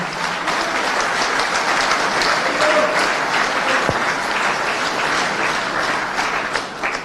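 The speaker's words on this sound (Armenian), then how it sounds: "առաջարկում եմ բարձր ծափահարություններով վաղաշաբաթցիներին" Loud, sustained applause from a large crowd at a political campaign event honoring Vagharshapat residents, dense clapping throughout with a brief tonal blip partway.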